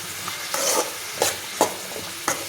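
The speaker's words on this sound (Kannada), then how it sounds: "ಬದನೆಕಾಯಿ ಸ್ವಲ್ಪ ಬಣ್ಣ ಬದಲಾಗೋ ತನಕ ಫ್ರೈ ಮಾಡ್ಕೊಳ್ಳಿ." Brinjal pieces fry in hot oil in a pan, giving a steady close sizzle broken by several brief scraping stirs, with no talk.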